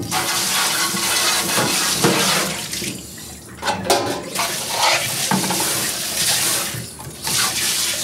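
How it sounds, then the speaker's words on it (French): Running tap water and splashing as dishes are washed at a sink by an animal care worker, a steady close wash of water with brief clinks and pauses. "Je vais pouvoir aller laver ma vaisselle."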